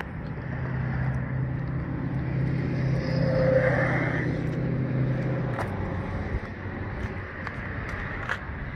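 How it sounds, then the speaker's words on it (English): The engine of a 2016 Buick Encore idles steadily with a low, even hum and a slight rise in revs midway, close and continuous, then settles into a quieter idle. "2016 Buick Encore"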